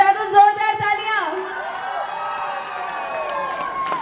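An audience at a sangeet wedding celebration cheers and whoops after a dance performance, with voices shouting over the lively crowd noise; scattered clapping is faint within the cheering.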